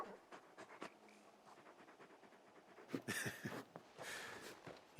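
The large dog Torgal in Final Fantasy XVI pants in quick, breathy bursts at close range, the panting growing louder and rougher toward the end.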